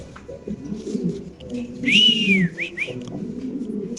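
A male pigeon calls close by, giving a brief whistling coo with a rising and falling tone over a steady low murmur of background noise and faint voices.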